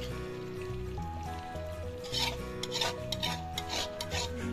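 A spoon scrapes and rubs through chicken simmering in a thick masala gravy in a pan, a steady rasping stir beneath louder background music, with no talking.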